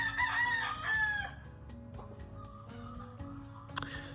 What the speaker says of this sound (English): And the roosters start.